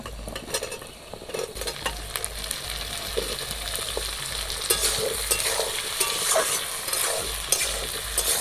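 Squash and potato pieces fry and sizzle in hot oil in a pan, a continuous crackle broken by repeated stirring scrapes of a utensil against the metal, close and steady, with no talk.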